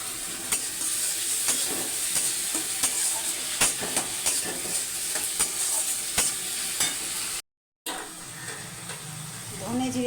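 Ground ginger, garlic and chili paste fry in a pan with onion and tomato, a continuous sizzle punctuated by regular sharp ladle taps and scrapes, briefly cut to silence near the end.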